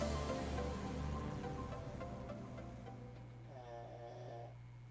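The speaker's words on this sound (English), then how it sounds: "My dog is still freaking snoring." A dog snores steadily nearby while video game music plays throughout, the breathing rumble sitting under a looping melodic score.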